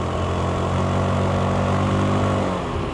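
A Zontes 368G V2 motorcycle engine pulling up a hill on Gunung Jerai, with a loud, close, steady drone recorded from the rider's position and a slight pitch change toward the end.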